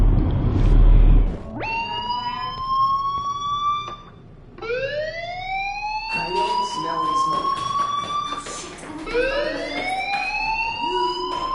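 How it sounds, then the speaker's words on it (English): A video game fire alarm sounds in repeated rising electronic wails, loud and close, three sweeping bursts separated by short gaps with a low rumble beneath. "do you hear that fire alarm? That means you should be outside."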